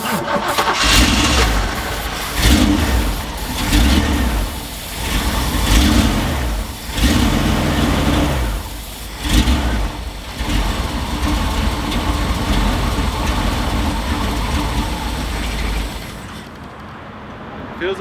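The engine of a 1978 Jeep undergoing a budget rebuild cranks over in loud, rhythmic pulses close by, then catches and keeps running with a rough, steady rumble.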